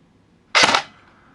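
A Matrix MP007 MP40 airsoft electric gun fires a single short shot, a sharp, close burst of mechanical snap and hiss in an otherwise quiet space.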